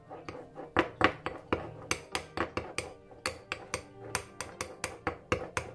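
A spoon works teaspoon of turmeric into a sea moss face mask in a bowl, giving a steady run of sharp, close clinks and taps, roughly three per second, with no talking.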